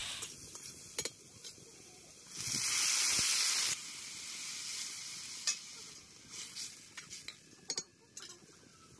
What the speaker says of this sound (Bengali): দেখতে পাচ্ছ কি সুন্দর ভাবে কষানো হচ্ছে?